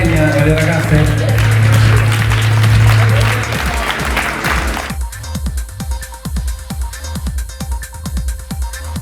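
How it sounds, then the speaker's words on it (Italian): Audience applause at the Miss The Queen of the Fashion Night 2018 pageant at Molo 5 in Marghera, Venice, with dense clapping that continues after a loud passage with a voice over music. "un bel applauso a Ilenia e alle ragazze"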